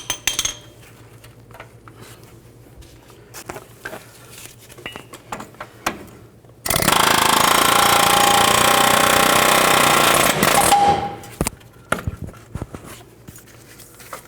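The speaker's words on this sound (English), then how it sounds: "you might need an air hammer" A loud, sustained burst of rapid pneumatic air hammering on suspension bolts during front upper control arm replacement on a 1999-2007 Chevy Silverado 2500, lasting several seconds, surrounded by quieter metallic clinks and tool handling.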